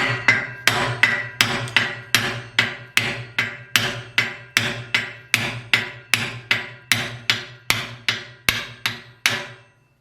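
A hammer taps a part out of an older lawn mower in about twenty evenly spaced, ringing metallic blows at a steady rhythm, close and loud, with nothing else heard.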